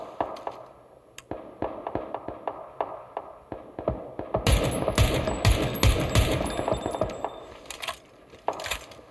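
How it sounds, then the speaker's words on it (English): Rapid bursts of gunfire from a first-person shooter game played during an exercise session: sharp repeated shots with scattered single cracks at first, then denser, louder volleys near the middle of the stretch. "That guy shooting at me."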